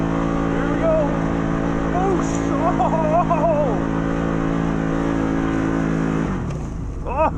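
A 2021 Can-Am Maverick Sport XMR side-by-side drifting off-road, its engine droning steadily with rising and falling revs, fairly loud, while people talk and shout over it.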